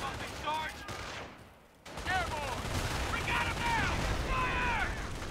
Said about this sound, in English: These AA guns are awesome